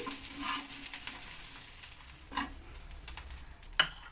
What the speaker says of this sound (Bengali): দেখো চিংড়ি মাছটা আমার ভাজা হয়ে গেছে আমি চিংড়ি মাছটাকে এবার এর সঙ্গে তুলে নিচ্ছি